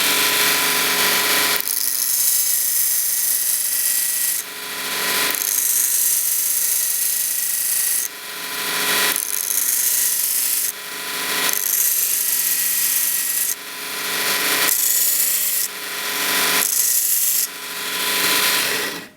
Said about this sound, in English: I'll just try sharpening this one.